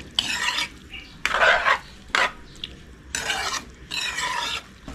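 A spoon stirs cow skin and meat stew with vinegar in a pan, making repeated scraping, sizzling strokes in bursts with brief pauses, close and fairly loud, no voices.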